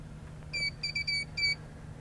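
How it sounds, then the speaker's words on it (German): A short series of electronic beeps from an electric belly boat motor being switched on, four quick high-pitched tones in an irregular rhythm over a low background hum. "Wenn ihr ihn eingeschaltet habt, gibt er mehrere Pieptöne von sich."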